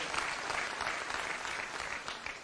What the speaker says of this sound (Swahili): Tumpigeni makofi.